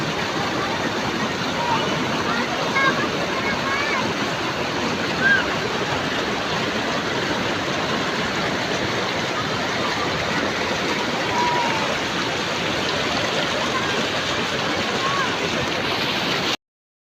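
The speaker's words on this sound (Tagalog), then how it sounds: "tingnan nyo yung tubig, maagos." Fast-flowing river water rushes steadily and loudly, a broad continuous wash of current close by along a rural river, with a faint voice briefly heard over it.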